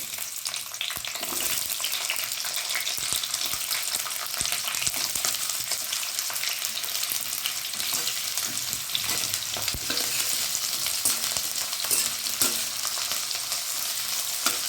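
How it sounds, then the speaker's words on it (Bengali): Large chunks of onion sizzle steadily in hot oil for a chilli paneer stir-fry, a loud, continuous frying hiss with occasional stirring scrapes and no voices. "তেল গরম হয়ে গেছে আমি এখানে প্রথমেই বড় বড় টুকরো করে রাখা পেঁয়াজগুলো দিয়ে দেবো"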